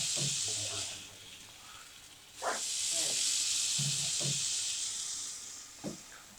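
Rice frying in a pot with garlic and ginger paste for mutton biryani hisses and sizzles steadily in two long stretches. Scattered short scraping stirs break through the hiss at moderate, close-range loudness.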